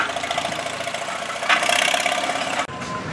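A tractor engine roars steadily at a county fair tractor pull, loud and continuous with a surge in revving midway before dropping off abruptly near the end.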